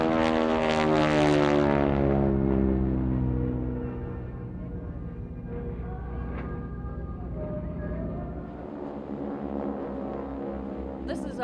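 Harvard T-6 Texan propeller trainers with Pratt & Whitney radial engines pass low in a double-vee formation, a loud, close droning roar that peaks early and then fades to a steady, distant hum as they move away.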